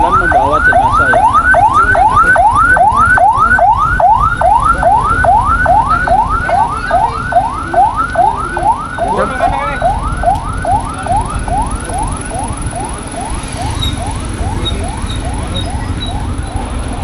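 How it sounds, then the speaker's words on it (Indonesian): Ambulance sirens wail in a fast, continuous rising-and-falling pattern at a landslide site in Kasimpar village, Petungkriyono, Pekalongan, as the vehicles carry away bodies; loud and close over a steady engine rumble, with no talking. "Ambulan membawa jenazah ya."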